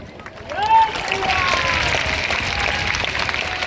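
An audience at a live spiritual gathering applauds, a dense, steady wash of clapping held at an even level throughout.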